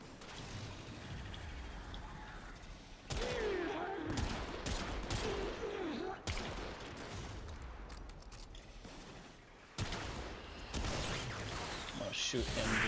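Gunfire in the shooter game Warframe during an Eidolon Teralyst hunt, dense rapid bursts of weapon fire with mechanical clatter and booms over a constant game soundscape, abruptly stopping and restarting.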